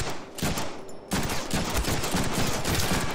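Rapid gunfire in a Deadpool video game, dense bursts of automatic shots crackling almost continuously after a brief lull, loud and close with no talk.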